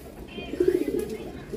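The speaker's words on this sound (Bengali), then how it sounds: "এই একটা কবুতর আছে, কাজ করা কবুতর মাদি" Female working pigeon kept in a loft, giving a soft, low cooing call that rises in the middle of a short stretch over faint background hiss.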